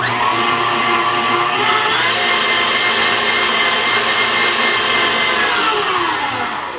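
An electric mixer whirs loudly and steadily through cake batter with vanilla for a maple apple oat cake. The motor pitch shifts slightly and then eases off at the end, with no talking.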